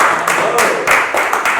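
Applause and clapping from a talk-show audience, with dense broadband bursts of claps that swell and dip in uneven waves over a couple of seconds.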